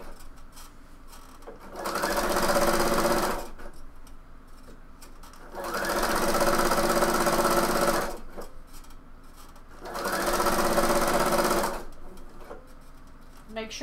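A sewing machine stitches the stretched band of a bomber jacket in three steady bursts of about two seconds each, separated by quiet pauses, close and fairly loud with no talk over it.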